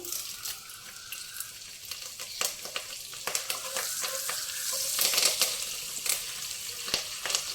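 Curry leaves hitting hot oil for a ridge gourd and chana dal curry crackle and spit with sharp pops over a rising sizzle, the frying growing louder toward the middle and staying close throughout.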